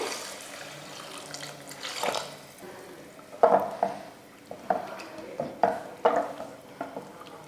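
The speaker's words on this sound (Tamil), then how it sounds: "இப்போ தேவையான தண்ணி சேர்த்துருவோம்" Water pours and splashes into a cooking pan over lightly sautéed ingredients for a side dish, with irregular sloshes and a few light metallic clinks, fairly quiet and close.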